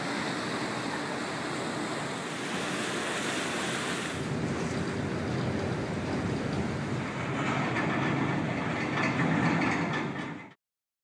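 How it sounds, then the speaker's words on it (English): The Edmonds ferry gets under way with a continuous broad rush of wind and water noise that swells slightly, then cuts off abruptly at the end. "Getting onto the ferry, the 750 sailing out of Edmonds."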